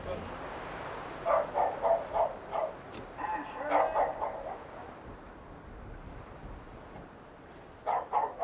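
A neighbour's dog barks from the flat upstairs, a run of muffled, moderately distant woofs followed by a doubled bark after a pause, over steady room hum and faint voices.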